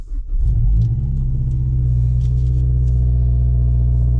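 A Mazdaspeed 3 (MPS3) engine fires up with a short starter churn, then settles into a loud, steady, deep idle rumble close by, with no talking over it.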